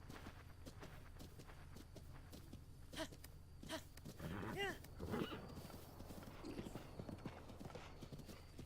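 Horse hooves clip-clop in the Zelda: Breath of the Wild video game, a steady run of hoofbeats over a low game ambience, with a couple of snorting whinny-like calls partway through.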